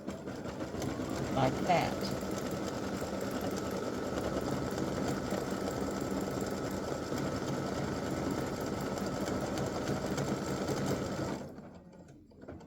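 Sewing machine running a triple stitch for a side seam appliqué, a steady close mechanical whir lasting several seconds with a brief voice early on, then stopping abruptly near the end.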